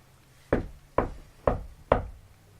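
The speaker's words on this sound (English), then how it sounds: "Brody, try knocking on the wall." Four firm knocks on a wall, evenly spaced about half a second apart, each sharp and close with a short dull decay, in an otherwise quiet room.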